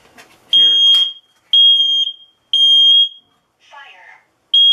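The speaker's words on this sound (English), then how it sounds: "Push test button. That scared me. Okay, this one works." A smoke detector alarm sounding while its test button is pressed: four loud, piercing electronic beeps, each about half a second long, evenly spaced, with brief handling noise and a voice between them.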